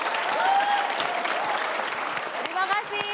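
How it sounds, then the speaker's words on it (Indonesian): A seminar audience gives a burst of dense, close applause, with a voice speaking over it and a few whoops rising near the end. "Berikan tepuk tangan buat kita semua."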